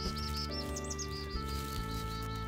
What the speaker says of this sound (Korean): 새소리도 좋고요.